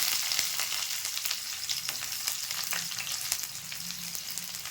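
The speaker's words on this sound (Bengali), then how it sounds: "একটু পাঁচফোড়ন দিয়ে দিলাম পেঁয়াজ কুচি" Chopped onion and five-spice (panch phoron) frying in hot oil with dried chili, a dense crackling sizzle with bright spits and pops throughout, close and steady, with no talk.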